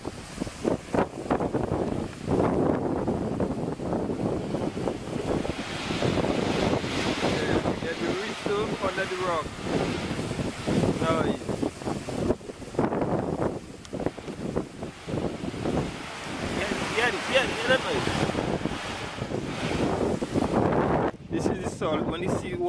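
Sea waves surge and wash under the natural limestone arch of Devil's Bridge on Antigua's coast, a steady roar of surf with heavy wind buffeting the microphone and a voice speaking over it.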